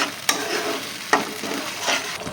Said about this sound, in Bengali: এটা একটু ভালো করে নাড়াচাড়া করে নেব।